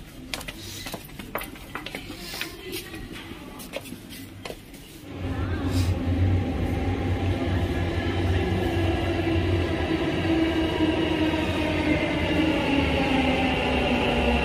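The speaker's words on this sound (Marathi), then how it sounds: "आता मेट्रो मधून प्रवास करण्यासाठी आलोय पहिल्यांदा मेट्रो मध्ये" A Bangalore metro train gets moving after a few seconds of clattering and rustling, then a steady loud rumble and rising motor whine carry on inside the carriage without talk.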